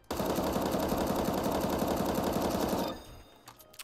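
M4A4 rifle in CS:GO fired in one continuous full-auto spray for about three seconds, loud and rapid, then cutting off to a few faint clicks.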